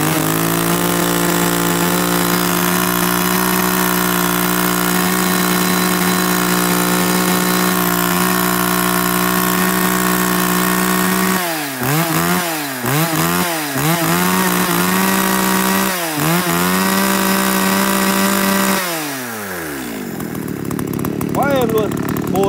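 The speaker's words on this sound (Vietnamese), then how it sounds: "Hàng Echo Green này thì chạy bền máy và siêu lợi xăng luôn cho các bác." An Echo Green K5 chainsaw engine runs loud and close with a steady whine, then revs up and down several times in quick bursts before dropping back toward idle.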